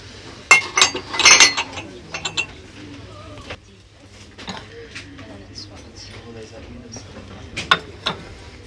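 Ceramic plates being browsed in a shop give off several bright clinks and clatters, a cluster early on and scattered taps later, while someone talks over them.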